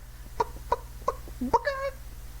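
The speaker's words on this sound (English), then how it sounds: "Chicken." A chicken gives four short, evenly spaced clucks, then a longer drawn-out squawk, standing alone and clear over a faint steady hum.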